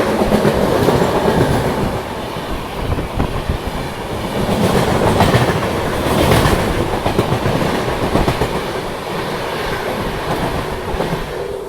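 The Doon Express, a daily Dehradun–Howrah train, passes close and loud, its wheels clattering in a continuous rumbling wash that swells and eases slightly throughout, with no talk.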